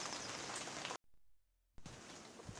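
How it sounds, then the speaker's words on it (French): Rain falls steadily on a private fishing pond, a close, even hiss that briefly drops out in the middle before resuming at the same level. "Là du coup il pleut, c'est un peu dommage mais bon."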